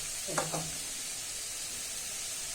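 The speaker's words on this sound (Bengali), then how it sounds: "আলুগুলো সেদ্ধ হয়ে গেছে, তেলেই সেদ্ধ করলাম। ভাজা ভাজা মতন হয়ে গেছে" Potatoes fry in oil with a constant close hiss and sizzle, broken by a few soft stirring scrapes.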